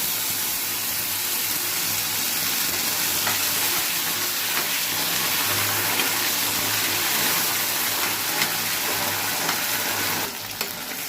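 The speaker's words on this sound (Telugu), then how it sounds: "ఈ మిల్ మేకర్ ఫ్రై చేసుకోవాలి మనం నెయ్యిలోనే." Soaked and ground soya chunk paste, being made into a sweet halwa, fries in ghee with a loud, steady sizzle and occasional stirring scrapes, close up and with no talk.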